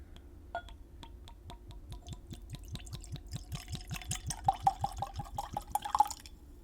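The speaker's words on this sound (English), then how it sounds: "I should not pour it so high in the dram, basically" Bulleit straight rye whiskey trickles into a glass in a quiet run of small, quick drips and splashes that grow brighter and denser toward the end, close and soft, with no voices.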